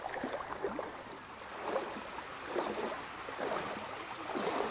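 Rushing floodwater in Opladen, Leverkusen, a steady broadband roar of fast-moving water with surging swells, loud and close, with no voices.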